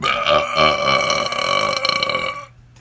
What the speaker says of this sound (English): dark, black fucking Mordor burps.